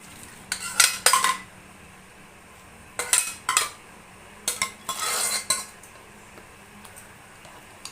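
Metal utensil stirring and scraping puran poli (obbattu) filling in a pan, giving irregular clinking, scraping bursts in several clusters, close and clear with no talk.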